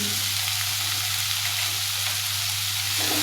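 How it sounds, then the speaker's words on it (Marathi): Chopped onion, grated ginger and garlic fry in a pan over medium heat for an egg curry, giving a dense, steady sizzle and hiss, close and continuous with no voices. "कांदा आलं लसूण आपल्याला चांगलं परतून घ्यायचं आहे मिडियम गॅसवरती व्यवस्थित परतून घ्यायचं आहे"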